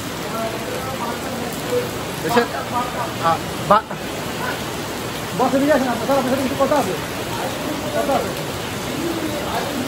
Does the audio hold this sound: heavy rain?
yes